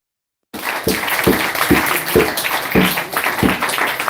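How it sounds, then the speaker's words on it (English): Audience applause closes a devotional talk at a Hare Krishna gathering, starting after half a second of silence and continuing as steady, dense clapping from a nearby crowd, with a few louder individual claps standing out. "let's give a big round of applause"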